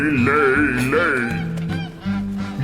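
A goose honks in a few wavering, nasal calls over a low musical bed, a storybook sound effect for a fairy-tale audiobook, fading as the music carries on.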